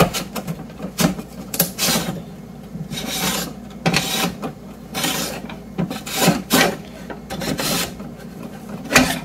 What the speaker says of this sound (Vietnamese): cây cà rốt, rồi bắt đầu mình bào.